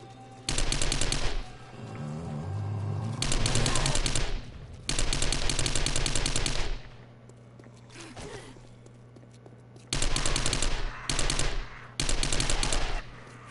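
Repeated loud bursts of shotgun and rifle fire during a 7 Days to Die horde night against zombies, several separate volleys of rapid shots with brief quieter gaps between them.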